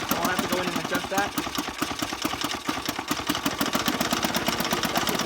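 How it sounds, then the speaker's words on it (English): A 1968 Sears Clinton 3.5 hp small engine idles at half choke with a low, uneven galloping rhythm, steady and close throughout, while a person talks over it. "That's kind of a half choke running on right now. Lower idle. It idles. It's kind of galloping"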